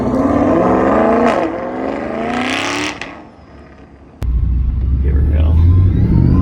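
A supercharged C8 Corvette engine rises in pitch as it revs and accelerates, then drops to a quieter whir before surging back into a loud, deep roar. Someone speaks briefly under the engine.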